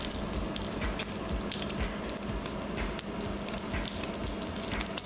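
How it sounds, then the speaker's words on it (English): Beef fat cap sizzles and crackles in a hot skillet, a steady frying hiss with sharp little pops scattered throughout, close and moderately quiet, no talking. "Take a skillet, add the fat to your skillet."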